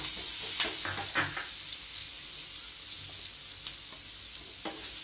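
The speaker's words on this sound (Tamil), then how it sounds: "வெங்காயம் கொஞ்சம் நல்லா வதங்கட்டும்." Sliced big onions and curry leaves sautéing in oil for a raw banana fry, a steady close hiss with a few stirring scrapes and no talk.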